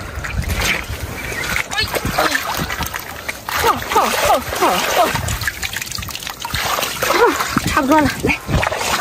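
Sand is washed off in seawater on a beach during seafood gathering, with continuous close splashing and trickling water while a person talks over it.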